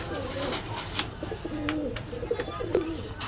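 Pakistani and local pigeons coo in low, soft rolling calls close by in a shop, with a few clicks and rustles around them.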